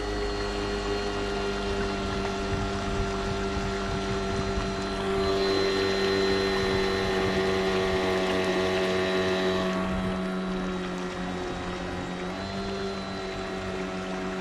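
An ECHO 58V powerhead on a Kayakbuddy engine leg drives an 11 ft Cobra Explorer kayak at full throttle, a steady, loud motor whine with a constant pitch and water rush that swells slightly midway.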